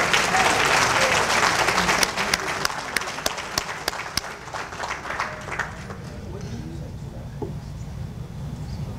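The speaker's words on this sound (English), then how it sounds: "Let's give the family of Sister Janome Tahir my holy brother round of applause" A banquet crowd at an annual awards dinner gives a round of applause, dense clapping with a few sharp individual claps that dies away after about five seconds, leaving room noise and faint voices.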